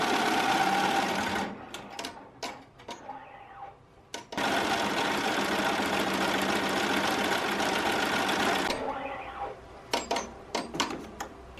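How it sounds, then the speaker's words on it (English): A Melco Summit embroidery machine stitches a name onto the back of a varsity jacket, running in long steady rapid bursts with short pauses and clicks between stitching runs, close and loud. "So now we just have to go ahead and stitch out the name of the center, and that's just going to be regular embroidery stitching."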